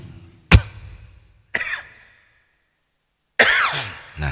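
Three separate coughs from one person, each a sharp burst followed by a raspy tail, with quiet gaps between them.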